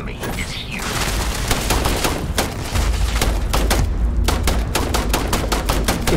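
Rapid gunfire during a firefight in the video game Starfield, dense bursts of automatic shots and crackling fusillades that run almost continuously, with heavy low-end booms underneath and distinct sharp volleys toward the end.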